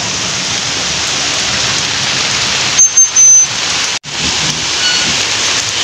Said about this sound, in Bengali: সকাল থেকে প্রচণ্ড বৃষ্টি, এই পুরো অন্ধকার হয়ে সকাল থেকে বৃষ্টি সারাদিন।